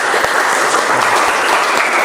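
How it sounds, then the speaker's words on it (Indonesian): Dense, steady applause from a classroom audience during a technical drawing lesson, a continuous wash of many clapping hands at even loudness throughout, with no voices. "Tepuk tangan dulu untuk Mas Hilmi"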